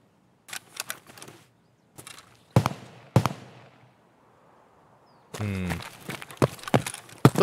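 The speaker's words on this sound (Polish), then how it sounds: "Ktoś tam strzela, no." Several sharp gunshots in Escape from Tarkov on the Shoreline map, with an SKS rifle in play. The cracks come as irregular single shots and pairs at varying distances. A burst of speech joins near the end.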